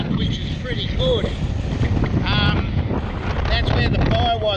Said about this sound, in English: it's that windy. I don't know whether you'll be able to hear me.